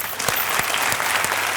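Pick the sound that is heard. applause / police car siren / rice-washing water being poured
applause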